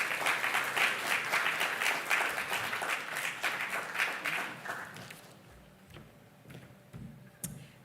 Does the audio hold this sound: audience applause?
yes